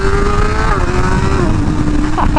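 BMW M1000R motorcycle, unrestricted, on its first ride, heard as a loud, steady high-revving engine drone with a slowly falling pitch, close and continuous.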